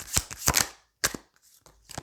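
Tarot cards are drawn and handled in a series of sharp snapping and slapping card sounds, several quick bursts followed by quieter rustling, close and fairly loud.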